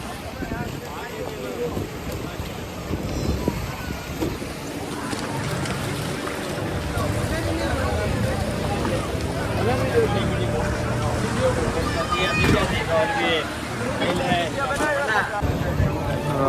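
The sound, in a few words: tourist boat starting at Shivrajpur Beach, Dwarka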